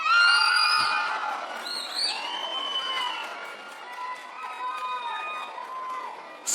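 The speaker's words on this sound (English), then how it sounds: "Ladies, if you don't care if they wear a condom, give me a cheer." Women in a live comedy-show audience shout, scream and whoop in a loud, ragged burst that gradually thins into scattered cries.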